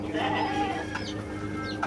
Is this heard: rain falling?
no